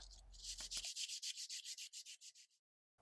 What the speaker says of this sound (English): I just want to sand it so that it's all nice and smooth